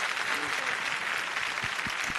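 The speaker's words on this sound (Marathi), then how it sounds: "एकदा जोरदार टाळ्या झाल्या पाहिजे" A television music contest audience claps loudly and continuously, a dense sustained applause from start to end.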